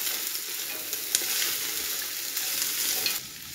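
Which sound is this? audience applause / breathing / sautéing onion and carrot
sautéing onion and carrot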